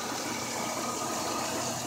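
A car engine idles steadily during a throttle body cleaning job, giving a continuous, even, fairly loud hum up close with no change in pitch and no talking.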